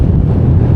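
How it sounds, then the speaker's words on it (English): Strong wind buffets the microphone high on a Lake District fell, a loud, constant low roar with no voices. "So it's so windy up here."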